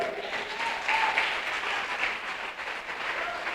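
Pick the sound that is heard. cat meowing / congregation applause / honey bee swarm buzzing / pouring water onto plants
congregation applause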